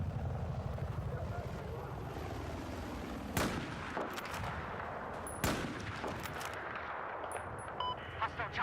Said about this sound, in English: Hostile chopper spotted. Due north of your position.